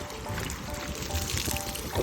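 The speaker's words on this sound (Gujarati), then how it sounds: "આ પાણી ભરી લઈ ડબલાને પછી રેડવા માંડી આની માથે" Continuous splashing and trickling of water poured from a container onto a car at a river, steady and fairly loud throughout.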